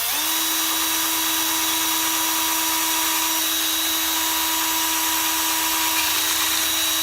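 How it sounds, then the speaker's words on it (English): A small drill bit boring a hole into the metal base of a Hot Wheels 4x4 toy car gives a steady, high whine that holds at one pitch for about seven seconds. No one speaks over it. "I'm just going to take and drill a hole right here into the base"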